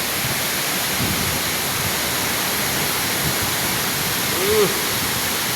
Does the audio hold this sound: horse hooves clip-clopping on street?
no